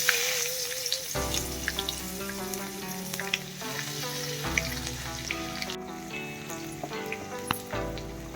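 Garlic sizzles steadily in hot oil in a kadhai with asafoetida and turmeric while a traditional Maharashtrian amti curry is cooked; the crackle runs continuously under a melodic musical background.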